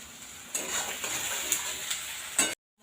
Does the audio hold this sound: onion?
yes